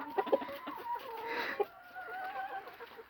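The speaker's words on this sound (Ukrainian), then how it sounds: "Цей кукурікає, а цей півень інтересно мені." A rooster gives a short, hoarse crow with some nearby clucking, fairly faint and close, no talking.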